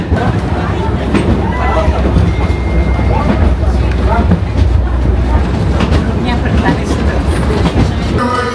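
A loud vintage train, nearly 120 years old, rumbles along the rails near Tuntang station, Indonesia, with a steady heavy roar and faint rhythmic clatter, heard from close by or aboard.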